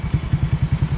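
A Raider J 115 FI motorcycle idling through an aftermarket Apido exhaust pipe: a steady, close, low throbbing putter with quick even pulses and a loud, gruff tone, no voices.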